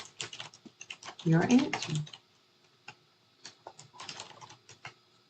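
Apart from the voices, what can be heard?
typing on a computer keyboard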